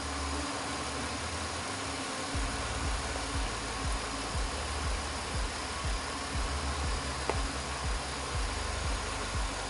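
A car engine idles steadily with a low, even rumble, then settles into a regular pulsing throb with faint vibration, close up and without talk.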